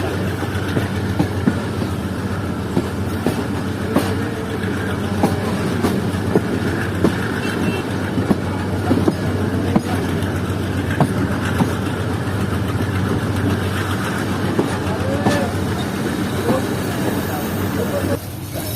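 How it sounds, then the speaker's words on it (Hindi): Zikriya Express pulling slowly out of Bahawalpur railway station, a continuous onboard rumble of the carriage with soft wheel clicks over rail joints throughout, steady and moderately loud beneath a voice speaking at times. "Train Aahista Aahista Bahawalpur railway station को छोड़ रही है।"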